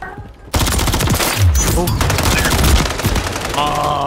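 Rapid bursts of automatic gunfire and weapon sounds in a shooter video game featuring a newly buffed gun, loud and continuous, with game effects layered over it and no clear talk.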